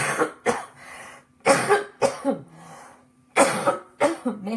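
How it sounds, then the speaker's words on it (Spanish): A person coughs repeatedly in several harsh, uneven bursts, with rough throat-clearing sounds between them, close and fairly loud. "Mejor nos da tos."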